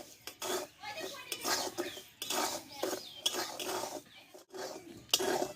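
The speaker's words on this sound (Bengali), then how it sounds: "আবারও আমি চার থেকে পাঁচ মিনিট মতো লবণটা একটু ভেজে নেব" Salt being dry-roasted in a pan for homemade black salt, with repeated scraping and clinking of a spoon against metal in irregular bursts, fairly close.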